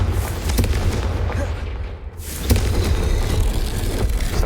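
The Confringo spell bursts into a booming explosion in Hogwarts Legacy, a loud rumbling blast that dips briefly and then swells again with a second heavy surge over ambient game sound.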